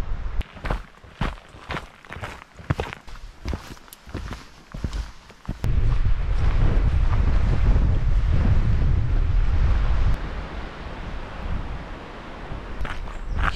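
Cold wind gusting at the edge of the ancient Rothiemurchus forest on a Cairngorm trek, starting as scattered crunching footsteps and light buffeting, then a steady loud roar of wind across the microphone from about six seconds on.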